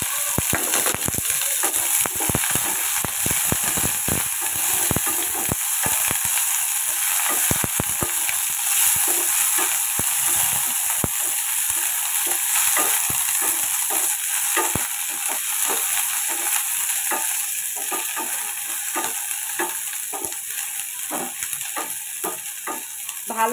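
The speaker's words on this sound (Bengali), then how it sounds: "ভালোভাবে পেঁয়াজটা রসুনটা আমি হালকা ভেজে নিব" Chopped onion and garlic frying in hot oil in a pan, a steady loud sizzle with frequent stirring scrapes and clicks throughout, no talking.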